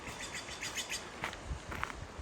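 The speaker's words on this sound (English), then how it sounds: "and our birds wishing us a wonderful afternoon" Birds singing along a riverside forest trail by a campground on the South Santiam River, with faint scattered chirps and tweets over a soft outdoor background.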